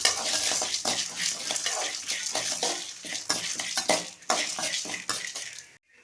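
Cumin, black pepper, coriander seeds and dried chillies dry roasting in a pan, heard as dense rattling and scraping from constant stirring, with metallic clinks up close and no speech.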